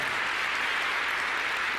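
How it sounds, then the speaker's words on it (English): Crowd applauding at a snooker match, Ronnie O'Sullivan vs John Parrott in a Tenball quarter final: steady, dense clapping from a full audience, loud and unbroken, with no voices. "Well, the crowd happy with this performance from Mr. O'Sullivan."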